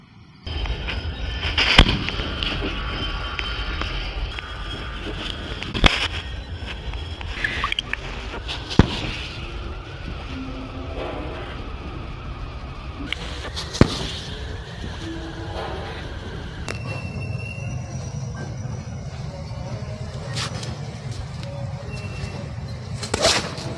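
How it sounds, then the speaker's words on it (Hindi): Small homemade Diwali firework rocket fired from a mini rocket launcher, giving sharp bangs and hissing bursts at scattered moments over a steady crackling outdoor background, with no speech. "आपने देखा हमारा रॉकेट किस तरह से लॉन्च हुआ गाइस"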